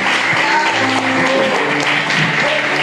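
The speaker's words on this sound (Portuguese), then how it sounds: "Vamos aplaudir o Senhor com alegria por essa noite." Loud, continuous applause from a church congregation during an evening service, with voices and some tonal music blending into the clapping.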